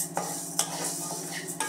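Coriander seeds stirred and dry-roasted in a pan, a steady scraping rustle with a few sharper clinks of the spoon against the metal, close and moderately loud with no talking.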